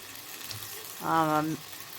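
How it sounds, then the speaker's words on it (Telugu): Garelu, lentil fritters, fry in oil with a soft, steady sizzle. A short humming, voice-like tone rises over it midway and then fades. "ఇక్కడ ఒక పక్క గారెలు అవుతుంది"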